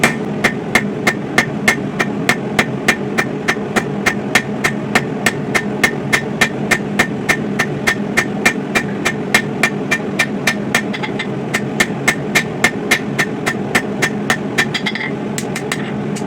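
A hammer forges and flattens a Bowie knife blade made from coil spring steel, striking about forty times in a steady, fast rhythm. Each blow rings sharply and close against a low background hum.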